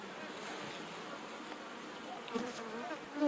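Honeybees buzzing steadily at an open hive during an inspection, their pollen-dusted comb close by, a soft continuous drone with a few brief louder passes near the end.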